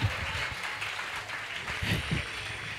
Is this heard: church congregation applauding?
yes